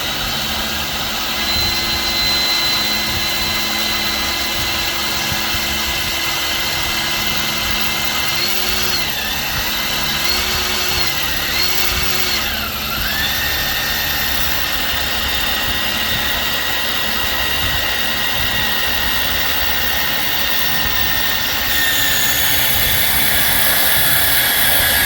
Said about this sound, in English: Try to make it center and drill slowly.